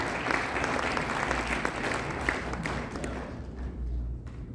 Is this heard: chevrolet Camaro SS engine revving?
no